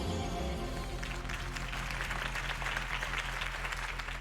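Crowd applause in the Batman Telltale video game, a steady wash of clapping from a large gathering over a low musical drone, fairly faint and continuous.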